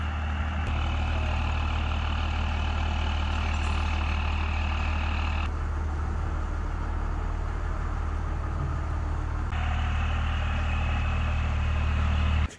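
A Cummins-powered ramp truck works its way around a tight corner into a dyno, its diesel engine droning steadily and close the whole time, the tone shifting a couple of times as it maneuvers, with no talk.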